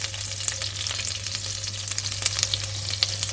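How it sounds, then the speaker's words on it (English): Cumin seeds and split green chilies splutter in hot oil, a dense close sizzle with frequent sharp little pops and crackles over a steady low hum. "half a teaspoon of cumin seeds and we'll let it splutter or change color"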